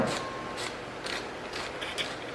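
Hoof file rasping down a goat's hoof, quiet rhythmic scraping strokes repeating about twice per second, close and alone.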